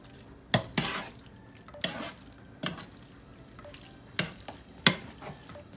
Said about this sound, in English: So I'm gonna stir it real quick.